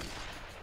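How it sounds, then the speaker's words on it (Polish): Barrels explode in the action game Hades, a dense burst of crackling blasts that fills the whole short moment, loud and close with no talk. "Wybuchające beczki."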